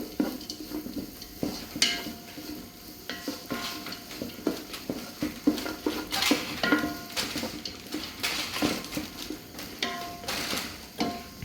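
Noodles and chicken pieces are stirred in a pan for a restaurant-style noodle dish, with scraping utensil strokes and clinks against the pan repeating steadily and close under a faint sizzle, no talking.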